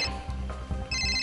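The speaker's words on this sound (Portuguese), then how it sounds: "Telefone?" Telephone ringing with a bright electronic trill in two short bursts at the start and end, loud and close, with no talk over it.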